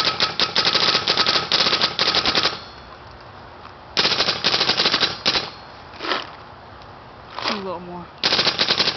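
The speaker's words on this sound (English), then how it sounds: "I'm just gonna shoot like a half pod so I don't waste so much paint" An ETEK 1 paintball marker fired on semi-auto, rapid bursts of sharp cracking shots in quick strings separated by pauses, with a brief spoken remark between volleys.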